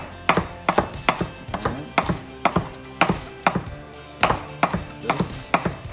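Rough, steady knife chops strike a cutting board as fish taco ingredients are cut into cubes, about two sharp thwacks per second, close and loud, with no talk.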